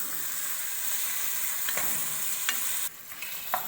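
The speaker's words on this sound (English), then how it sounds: "We will stir it continuously and cook for another 10 to 15 minutes." Food stirred as it cooks in a pan, a steady bright sizzle with a few distinct scraping strokes of a utensil, close and alone without speech, the sizzle dropping slightly near the end.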